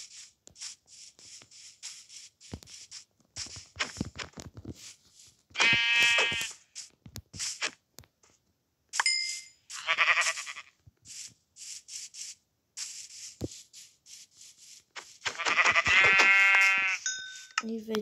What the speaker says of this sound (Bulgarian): Но има овци,